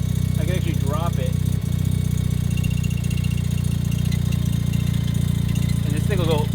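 Restored Mazda FC RX-7 street car engine idles low and steady close by, a constant deep drone, while a voice speaks briefly over it.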